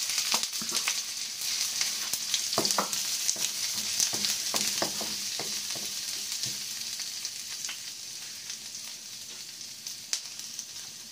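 Garlic and onion fry in oil for a simple pumpkin and miswa dish, a steady bright sizzle with clusters of spatula clicks and scrapes early on that thin out toward the end.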